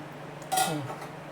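A metal cooking-pot lid is lifted off with a single bright clink and a short ringing scrape, close and clear in a quiet kitchen.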